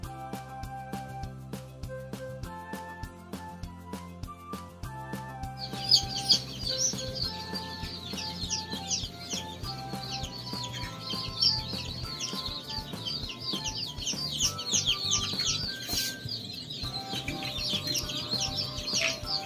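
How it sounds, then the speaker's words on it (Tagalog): Newly hatched chicks peep inside an egg incubator, a rapid, high, constant chirping that starts after a few seconds and continues over a background of soft music tones. "kapag napisa na yung mga itlog doon sa loob at dumarami na yung mga sisiw na nakalabas"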